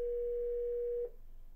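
One steady telephone ringback tone sounds for about a second on an unanswered line, then cuts off into quiet line hiss.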